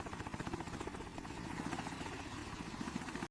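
A Boeing AH-64 Apache helicopter at shutdown, rotor chopping in a rapid, even pulse under a dense engine whine, steady and fairly close, cutting off abruptly at the end; no voices.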